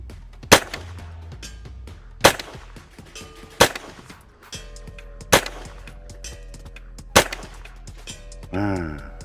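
Rifle shots fired at a target through a 2-12x24 SFIR FFP scope ring out as five sharp, loud cracks spaced about one to two seconds apart, with a faint metallic ring between them. A short whining sound follows at the end.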